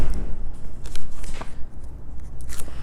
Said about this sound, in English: I'm going to, again, pull off the score tape